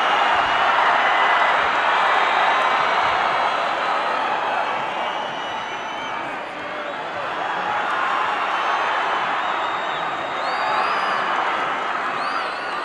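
A big arena wrestling crowd roars for Hulk Hogan, a loud sustained wash of cheering and shouting with whistles cutting through, swelling and dipping slightly.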